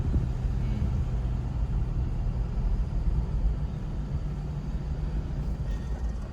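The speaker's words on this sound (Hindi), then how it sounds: "गाड़ी आ रही है सामने से एक और।" A car approaches at night on a jungle road, a steady low engine rumble and road noise holding throughout without clear rise or fade, moderately loud and with no voices.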